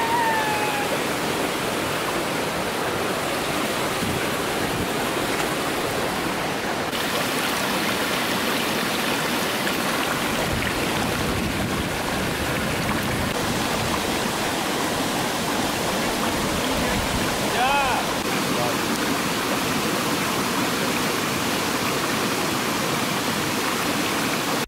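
A mountain stream rushes through the Steigbach ravine in the Allgäu, a dense, constant roar of flowing water heard up close with no talk.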